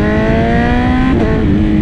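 BMW M1000RR superbike fitted with a full titanium exhaust and stage 2 tune, revving hard on a dyno: a loud, continuous engine howl climbing steadily in pitch, then briefly dipping and rising again, with no talking.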